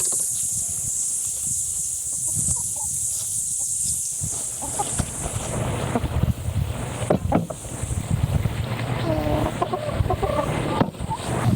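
Chickens cluck and murmur in a tropical backyard garden in Far North Queensland, intermittent soft calls over wind and rustling, fairly close and growing busier toward the end.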